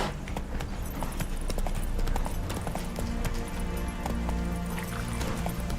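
In The Witcher 3 video game, the horse Roach gallops with rapid, steady hoofbeats that carry all the way through, close and fairly loud, with some faint background game sounds.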